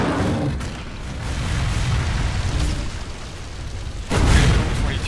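Lightning bolt spell cast in the dungeon-crawler Legend of Grimrock 2, two loud crackling electric bursts, one early and a stronger one near the end, over a steady droning game ambience.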